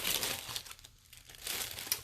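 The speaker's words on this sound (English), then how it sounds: "This time I'm going to just rip the sticker." A sticker ripped off a Witches Essentials beginner box during an unboxing, making close crinkling, tearing noises in two bursts separated by a brief lull.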